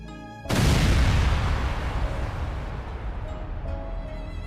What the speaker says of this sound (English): explosions consume the battlefield